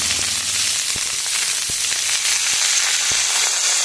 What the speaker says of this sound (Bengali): এবার এটা খুব ভালো করে ভেজে নেব।